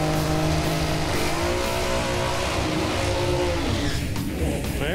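A 1970 Camaro does a tire burnout at a racing event, its engine roaring loud and steady for the whole stretch as the tires scream, with the revving pitch rising and falling near the end.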